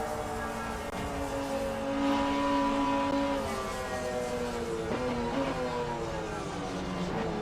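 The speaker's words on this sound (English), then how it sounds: "So this Jag is fast, and I love the sound of that V12." Racing at Bathurst in a video game, a V12 Jaguar XJS engine hums loudly and evenly, rising in pitch and then dropping through several quick downshifts as revs shift, heard close with no talking over it.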